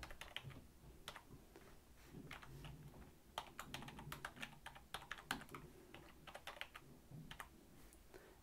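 Fingers type a password on a Mac keyboard in steady, close bursts of crisp key clicks with short pauses between runs, alone over a faint low room hum.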